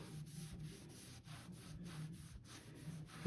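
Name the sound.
wiping scuffed wood with a wet rag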